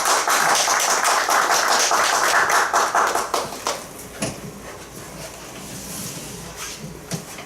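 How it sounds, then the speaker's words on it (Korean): Church congregation applauding to welcome a pastor to the pulpit, dense clapping from many hands that thins into scattered claps and fades out. "이제 목사님 나오실 때 박수로 환영합시다."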